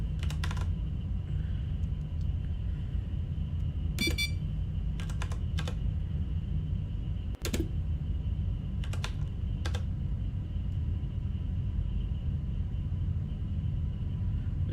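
Keystrokes on a computer keyboard entering commands in the game Duskers, short clustered bursts of clicky taps separated by pauses over a low steady hum.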